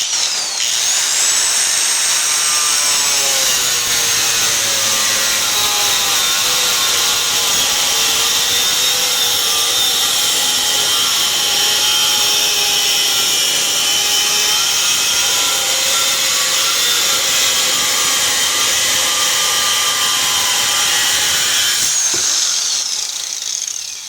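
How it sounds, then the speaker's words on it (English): A 4.5-inch angle grinder with a Kimball Midwest Super Maxx 2 cutoff wheel slices through 1/4-inch-thick, 1.5-inch-wide plate steel in a loud, steady, high-pitched scream lasting about twenty seconds, close up with no talking. "I'm going to use our Kimball Midwest Super Maxx 2 cutoff wheel, because this is a cutoff wheel that is on special."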